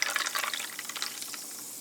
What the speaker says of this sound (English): last but not least, you pour in the club soda